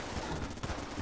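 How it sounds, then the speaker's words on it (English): The Vulcan Cannon in the video game Enter the Gungeon fires, producing a dense, continuous stream of rapid shots that sounds loud and close. "I'm gonna swap to the Vulcan Cannon."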